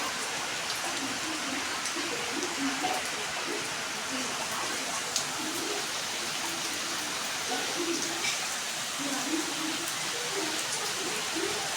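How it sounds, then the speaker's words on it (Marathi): Steady rain falls outdoors as a continuous, even hiss, with faint voices murmuring now and then beneath it. "इथे बघा खूप आता ना पावसाने छान असं हजेरी लावली"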